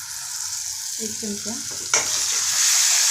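Vegetables for homemade pasta sizzle and hiss steadily in a hot pan with red chilli powder and sauce, a loud continuous frying sound with a brief spoken phrase early on and a sharper sizzle as something is added.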